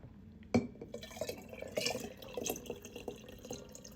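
Liquid poured into a container during a home demonstration, with a sharp clink at the start followed by close trickling, splashing and dripping that rises and falls unevenly.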